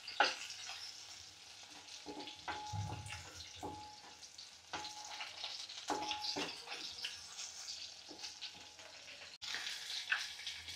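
Garlic sautéing in a pan for a gram-leaf greens dish, a steady soft sizzle with occasional scrapes and stirring clicks, moderately close, no talking.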